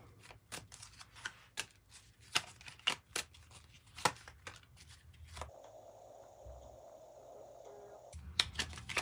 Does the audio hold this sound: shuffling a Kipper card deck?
yes